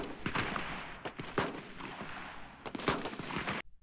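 Rifle gunfire from the 1987 war film Full Metal Jacket, several sharp loud shots at uneven intervals over a noisy film soundtrack, ending in a sudden cutoff.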